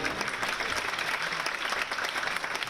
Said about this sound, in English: the spectators break into applause.